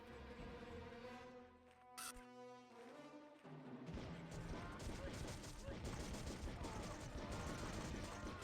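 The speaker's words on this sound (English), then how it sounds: "They only fire from the turret from the side that they're vulnerable on?" Bursts of turret gunfire from alien enemies in the video game Outcast rattle rapidly and continuously through the second half, following a sustained musical tone, while a person talks in the background.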